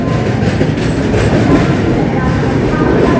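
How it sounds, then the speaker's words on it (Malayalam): A train rumbles in close by, a loud, steady roar of wheels and carriages with faint clatter throughout. "ട്രെയിൻ വന്നു വന്നുകൊണ്ടിരിക്കുന്നു"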